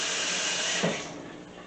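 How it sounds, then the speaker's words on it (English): Tap water runs steadily while a pot is rinsed in a kitchen sink, a close, continuous broadband rush with a small knock partway through, no talking. "let me rinse this off real quick"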